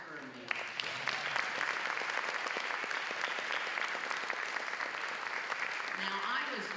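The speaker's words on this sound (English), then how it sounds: "please join me in a huge round of applause" Sustained audience applause from a crowd at a library box lunch talk on family butchering, steady and dense clapping filling the room for several seconds.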